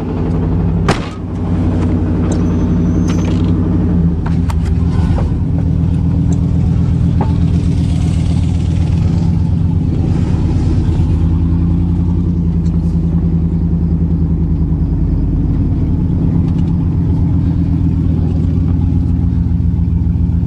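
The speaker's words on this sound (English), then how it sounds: "Oh, it's just my Chevy 305. Wait till the oil gets warm. You'll hear her knocking." A Chevy 305 engine runs at a steady idle, giving a loud, low, even rumble after a sharp thump near the start, with no distinct knocking standing out.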